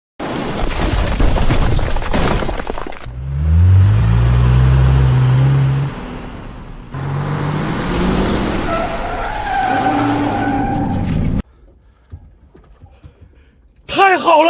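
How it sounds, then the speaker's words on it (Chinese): A car engine roars and skids through a bend during a street race, loud and close, with a tyre screech at the start and later high revving. The noise cuts to near silence toward the end. "是引擎声。"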